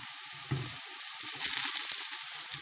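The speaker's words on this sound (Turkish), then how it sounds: "Ben böyle değişik, karışık bir kızartma yapıyorum" Steady sizzling of mixed vegetables, including carrots, frying in hot oil, a continuous bright crackle with a few soft clunks of stirring.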